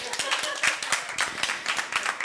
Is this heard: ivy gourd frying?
no